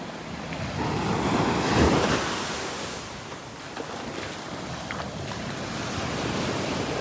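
Surf washes ashore on a Naples, Florida beach as the tide goes out, a broad hissing roar that swells and eases with each wave, mixed with gusty wind buffeting the microphone.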